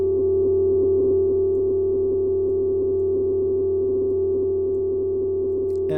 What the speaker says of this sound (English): Now let's see what that sounds like with an envelope.